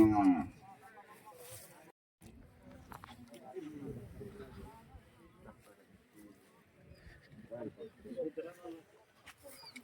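Khillar bulls low and moo in a few deep calls at a cattle show, with people talking nearby and outdoor background noise around them.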